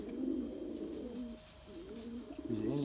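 Domestic pigeons kept in a loft coo in soft, low rounded phrases, several overlapping calls repeating close by with a brief lull midway.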